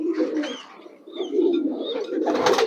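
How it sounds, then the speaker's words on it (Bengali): Bagha-type domestic pigeons coo in a loft holding a large flock, several soft throaty calls overlapping at close range with brief higher chirps, steady and moderately loud, with no talking. "ওর বাসায় বেশিরভাগই বাঘা টাইপের কবুতর"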